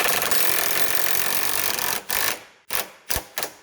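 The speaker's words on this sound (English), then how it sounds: "Let's get the low torque agadaga, see if we can drive that in." Low-torque impact wrench driving a control arm bolt on a 2013 Fiat 500 Turbo, a continuous loud hammering rattle that breaks into four short bursts as the bolt seats.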